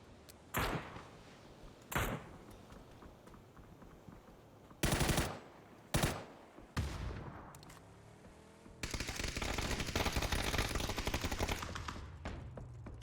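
PUBG gunfire in a pro scrim match: several sharp, loud single shots spaced a second or two apart, followed by a sustained rattling burst of automatic fire near the end, with no voices.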